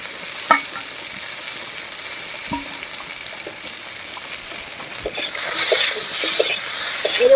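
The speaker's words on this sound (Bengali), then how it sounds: "মাছ ভাজার তেলের মধ্যে কচু আর আলুটাও ভেজে নেব" Taro and potato pieces fry in oil left over from frying fish, giving a soft, steady sizzle with a few clicks of utensils and a bubbling swell toward the end.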